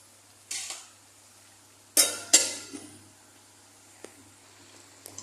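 A lid goes onto a cooking pot of arroz caldo with green onion leaves added, giving a couple of close metallic clanks and a rattle, then a faint tap or two against quiet kitchen background.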